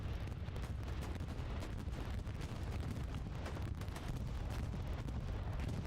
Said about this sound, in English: Bombing run straight over the midpoint.